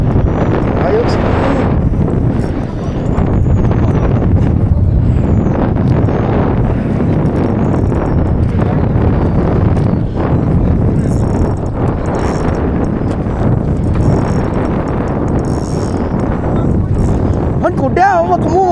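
Strong wind during ultralight fishing buffets the microphone with a loud, continuous low rumble for the whole stretch, and muffled voices occasionally come through underneath.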